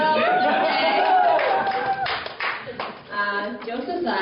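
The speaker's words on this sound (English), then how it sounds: "everybody, round of applause" A business seminar audience clapping, scattered applause and chatter mixed with a voice talking over it, moderately loud and close.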